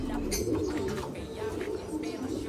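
Racing pigeons coo in soft, repeated low calls at close range, a few bursts overlapping in a loft-like setting with faint background noise.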